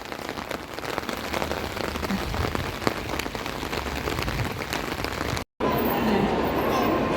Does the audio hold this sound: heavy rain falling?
yes